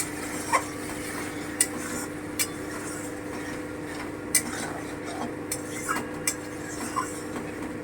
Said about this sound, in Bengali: এবার আমি এটাকে ভালো করে কষে নেব